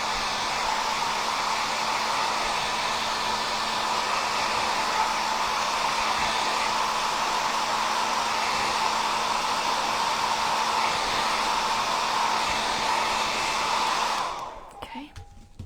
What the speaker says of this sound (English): I'll hit it with the blow dryer just a little bit